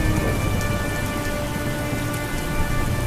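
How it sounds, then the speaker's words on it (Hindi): Heavy rain pours steadily on surfaces with a low rumble of thunder underneath, loud and continuous throughout with no voices. "तेज बारिश शुरू हो जाती है।"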